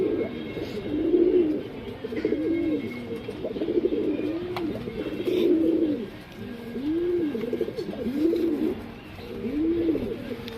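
A male Gulzar pigeon coos repeatedly nearby, a low rolling call rising and falling in a regular rhythm of about seven phrases, with light background noise.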